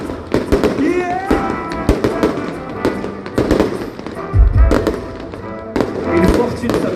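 Fireworks burst at a festival show in a rapid series of sharp cracks and bangs, with whistles, a deep thump and a crowd voice mixed in.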